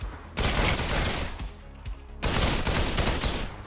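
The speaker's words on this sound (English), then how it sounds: "Let's shoot now." Bursts of rapid automatic gunfire from the VR shooter Population: One, loud dense fusillades in two long runs separated by a brief lull, with no talking.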